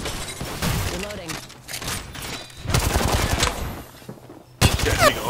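Gunfire in the online shooter Apex Legends during a full-squad match, several bursts of rapid shots rising and falling over about five seconds with a sharp loud burst near the end, mixed with voices talking.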